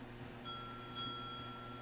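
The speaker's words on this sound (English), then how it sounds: "Hit that bell." A cat swats a small bell with its paw, giving two bright, clear dings about half a second apart that ring out against quiet room hiss.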